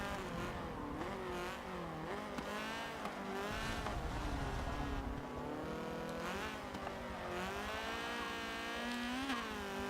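A Honda CRX with about 90 horsepower revs hard in the Forza Motorsport 7 racing game, its engine note climbing and dropping repeatedly through gear changes, loud and continuous.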